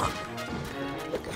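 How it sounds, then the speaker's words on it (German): Weapons shattering in The Legend of Zelda: Tears of the Kingdom, a sharp crash then scattered clattering hits, close and fairly loud, with no talk over it. "Meine ganzen Waffen gehen kaputt."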